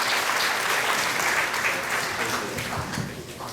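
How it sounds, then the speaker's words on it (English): An audience claps at a Ramayan satsang at a Shiva Mandir temple, sustained applause that tapers off toward the end, with voices mixed in. "Let's give her a nice round of applause"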